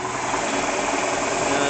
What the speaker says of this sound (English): There's your engine.